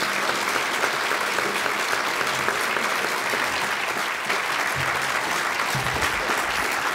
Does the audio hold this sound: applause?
yes